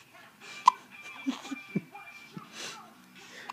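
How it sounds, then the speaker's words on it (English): A child hiccups in short, sharp bursts, with one distinct jolt near the start followed by softer catches and small voiced breaths, all close by and fairly quiet. "So as soon as my hiccups gone."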